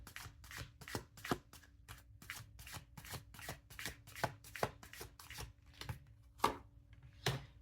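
Large tarot cards shuffled by hand, a run of crisp, evenly spaced riffling slaps close to the ear, about two per second, fairly quiet and alone with no talking.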